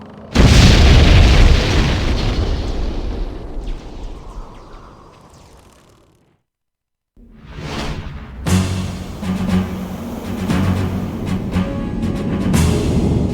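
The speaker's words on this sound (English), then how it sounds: "We have suffered a major hit. All hands prepare for crash landing." A massive explosion as an airship crash-lands in the Septerra Core video game, a loud sustained roaring boom that fades to silence, then a second burst of rumbling debris and blasts.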